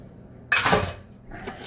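A spoon scrapes and clinks around a bowl as brownie batter is stirred with chocolate chips, a short burst of close scraping followed by quieter stirring.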